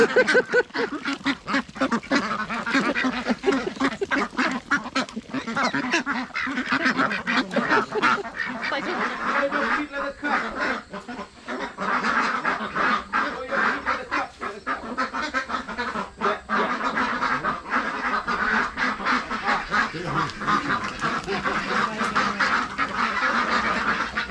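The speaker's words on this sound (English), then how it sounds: "Quack quack quack." A dense flock of ducks at The Duck Stop in Vietnam's Phong Nha region quacks loudly and continuously close by, many calls overlapping without a pause.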